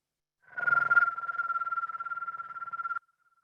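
A person imitates a screech owl call by whistling and gargling at once, producing a steady whistled tone with a fast, rhythmic tremolo flutter lasting about two and a half seconds, clear and close against a quiet background.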